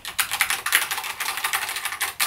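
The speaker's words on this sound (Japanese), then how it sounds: "この心地よいタイピング" Fast, steady typing on a SteelSeries Apex Pro TKL 2023 gaming keyboard, crisp close-up key clacks in a dense, even rhythm with a brief pause near the end.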